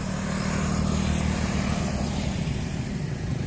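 Steady engine rumble from a motorcycle passing on an evening street in Vientiane, Laos, holds at a constant level over several seconds in dense traffic noise, with no clear rise or fade.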